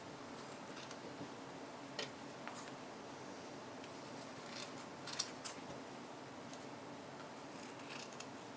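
Small scissors snip fabric close to the sewn seam of a betta fish plush, giving faint, scattered clicks and crisp cuts in a quiet room.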